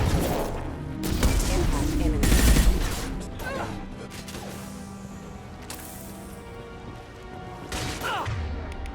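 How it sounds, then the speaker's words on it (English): Impact shot gunfire in the sci-fi shooter Mass Effect 2, several heavy blasts and crashing impacts early on, followed by quieter scattered shots and thuds amid battle noise. "Firing an impact shot."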